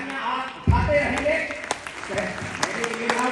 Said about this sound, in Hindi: तालियां आप उठाते रहेंगे